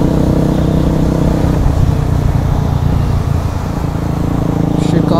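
Motorcycles, three KTMs and a TVS, running loud at full power on a road during a burnout session, a dense continuous engine roar up close with no clear breaks.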